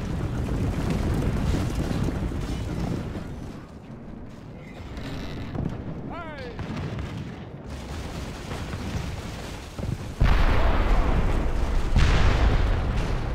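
Artillery in an Italian Wars battle game fires amid a dense, continuous battlefield roar, with a heavier burst of booms toward the end, all fairly loud and without talk.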